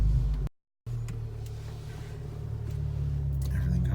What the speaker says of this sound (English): I have to start the vehicle